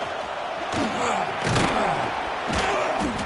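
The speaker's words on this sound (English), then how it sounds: "listen to this crowd noise. This stadium is vibrating." Stadium crowd in the College Football 26 video game, a loud continuous roar with repeated heavy thumps and surges, as if the stands are vibrating.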